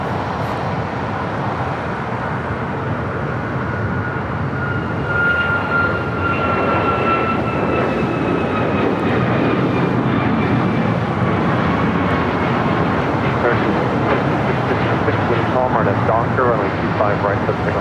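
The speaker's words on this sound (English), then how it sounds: "This is Alaska Airlines 1442 taking off to Zihuatanejo on a MAX 9" An Alaska Airlines Boeing 737 MAX 9 takes off at LAX, a loud sustained jet roar with a thin engine whine building and rolling on, while a voice talks over it.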